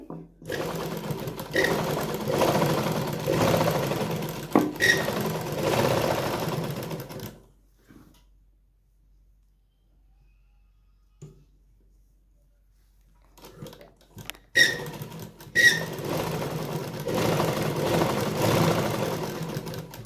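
Domestic sewing machine stitching cord piping onto fabric at a moderate speed, running in two long steady bursts with a quiet pause between them and a few soft handling clicks as the fabric is repositioned.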